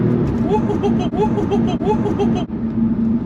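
An Audi S3 Quattro accelerates hard, its engine note climbing through the revs and dipping briefly at gear changes, loud from inside the cabin with a voice talking over it.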